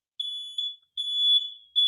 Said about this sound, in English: right on cue. Fire alarm.